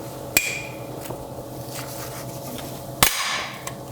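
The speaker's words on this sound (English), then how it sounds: "What you're listening to is me hammering on just a little hex key right here" Sharp metal hammer strikes on a small hex key wedged against a shallow-headed fastener in a stripped Audi S8 D2 engine bay: four isolated close taps, two louder than the others, with a faint hum between them.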